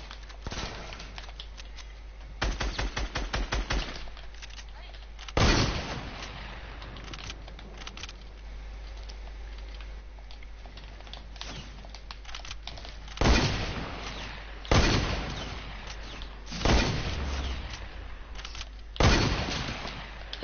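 Pump shotgun blasts in a video game, several loud, sharp booms spaced irregularly, some in quick clusters, with quieter gameplay noise between them.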